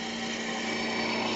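A spindle roughing gouge cuts the end of a wooden goblet blank spinning on a lathe, a loud, steady droning roar with a continuous whirring hum and no break.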